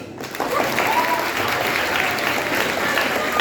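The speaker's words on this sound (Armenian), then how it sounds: "Ուզում եմ բարձր ծափահարենք մեր առաջին խմբին" Schoolchildren and adults in a school hall applaud the first team at a quiz contest, a loud sustained round of clapping that rises quickly and holds steady, with faint voices mixed in.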